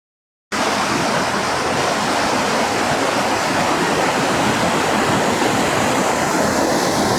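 Loud, continuous roar of a waterfall at a scenic spot, a broad rushing wash of water that starts abruptly after a brief silence and stays steady and close throughout.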